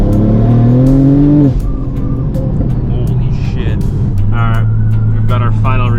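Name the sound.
Toyota GR Supra accelerating hard on E85 flex fuel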